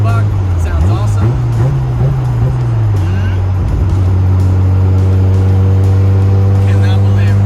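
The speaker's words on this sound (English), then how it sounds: "Just trying to go for a cruise in the RX-7." A Mazda RX-7 cruising on the street, its rotary engine running with a steady low drone and shifting pitch early on, then settling into an even hum under road noise throughout.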